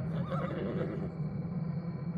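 A horse lets out a whinny over a low, steady background hum, close and fairly clear, while a vampire bat feeds on it.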